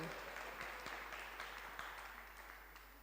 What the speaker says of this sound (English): Everybody, if you can clap for him.